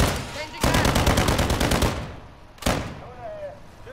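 Rapid automatic gunfire in Call of Duty: Modern Warfare II, a loud sustained burst of evenly spaced shots, then a single sharp blast and a fading tail, with faint game sounds between.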